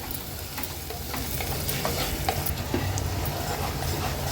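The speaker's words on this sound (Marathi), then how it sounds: "आता हे मसाले सर्व तेलावर छान परतून घ्यायचे आहेत" Red chilli powder, garam masala, goda masala and coriander-cumin powder fry in oil for a traditional Maharashtrian vegetable dish, a steady close sizzle with scraping stirs and small spatula taps throughout, no voices.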